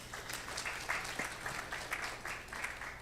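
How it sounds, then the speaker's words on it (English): Sustained audience applause following an inaugural lecture, a steady wash of many hands clapping at moderate distance in a hall, fairly faint and continuous throughout. "You deserve another round of applause."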